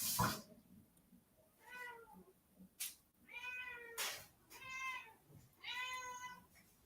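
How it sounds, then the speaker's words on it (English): A cat meowing nearby, four drawn-out wavering meows spaced about a second apart, each fairly loud and clear, with a couple of short bumps between them and no talk. "Meow. I hear a kitty cat."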